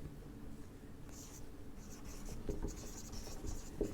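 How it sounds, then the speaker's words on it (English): Pen writing notes on paper, a soft continuous scratching with short strokes and brief pauses, close and quiet, with no talking. "So I'll write them down here."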